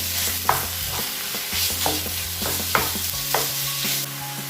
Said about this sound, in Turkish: Kavrulan soğanımın içerisine 250 gram kıymamı da ilave ediyorum. ve karıştırıyorum.